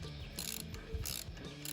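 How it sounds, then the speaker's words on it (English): A 2017 Honda XR150L with a broken piston and bent valve is turned over on the kickstart, giving a short run of faint ratcheting mechanical clicks and whirring cranking bursts, close and quiet. "I then started turning the engine over a couple of times with the kickstart"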